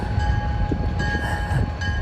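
CSX freight train rolling past on the rails, a heavy continuous rumble with rhythmic low thumps and a faint steady tonal whine, heard fairly close.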